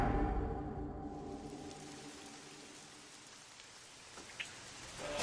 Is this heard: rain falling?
yes